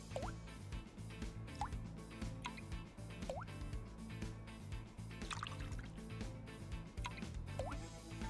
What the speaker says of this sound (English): Make sure you count the drops that drip down.